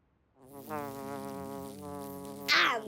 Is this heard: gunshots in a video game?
no